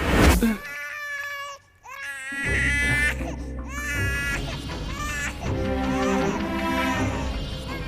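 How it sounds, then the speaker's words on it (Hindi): An infant wails in repeated rising and falling cries, loud and close with short pauses for breath, and no speech over the crying. "लेकिन बच्चे के रोने की आवाज तो आ रही थी ना।"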